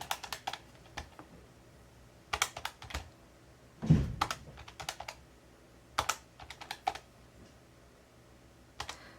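Buttons on a calculator are tapped in quick, faint clicks, grouped in short irregular bursts with brief pauses between them and no talk.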